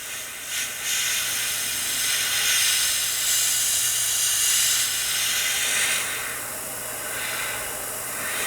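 Tamiya paint sprayed from an airbrush held about one and a half to two inches from a scale model gives a steady, close, continuous airy hiss that runs unbroken throughout, with no talking.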